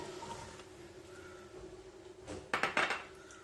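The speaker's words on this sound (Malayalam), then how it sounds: "കുക്കറിലേക്ക് ഞാൻ കുമ്പളങ്ങ ചേർക്കുകയാണ്" Pieces of ash gourd dropped into a metal pressure cooker, a few quick clattering knocks and thuds close by near the end after a quieter stretch.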